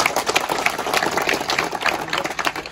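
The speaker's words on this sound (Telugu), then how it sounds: "అందరికి గివ్ బిగ్ క్లాప్స్" An audience at an Andhra Pradesh fire department fire safety awareness training claps together in a dense, sustained burst of applause.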